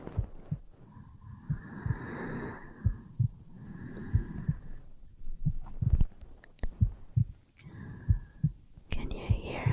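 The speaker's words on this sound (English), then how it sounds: "Can you hear my heartbeat?" Steady heartbeat thumping in a regular rhythm close to the ear, heard under soft whispered talk in a cosy lap-cuddle roleplay setting.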